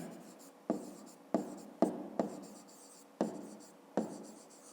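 A number being written by hand, likely pen on paper during a fifth-grade math exercise: six or seven separate short scratchy strokes in an uneven rhythm, close and fairly quiet, with no talking.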